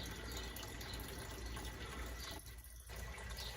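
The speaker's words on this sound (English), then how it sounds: "water feature that's about to turn on." A small backyard water feature runs with a steady, soft splashing and trickling flow, continuous and fairly quiet, with a brief dip in the gush partway through.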